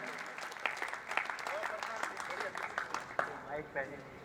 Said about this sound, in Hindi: एक बार पूरा सदन जोरदार तालियों से स्वागत करे